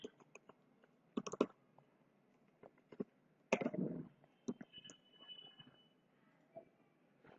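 Sparse, quiet key clicks on a computer keyboard come in scattered bursts and single taps, close by and otherwise near silent.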